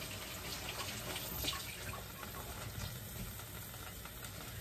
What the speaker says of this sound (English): Quick wash of the hands.